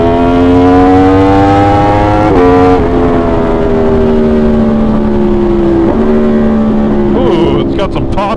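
An Aprilia motorcycle engine revs loudly up close, a strong sustained tone that drops and shifts pitch in steps, with crackling pops near the end.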